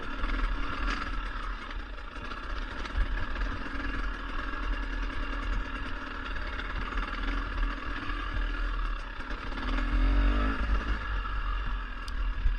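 A dirt bike rides a narrow two-track forest trail at Tahuya, its engine droning steadily at a mid pitch throughout, with no clear revs or gear changes and no voices.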